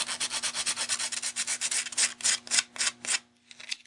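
Rapid back-and-forth strokes of sandpaper wrapped around a pen, sanding watercolor paper, a quick rhythmic rasping that continues evenly then slows and trails off, close and fairly quiet.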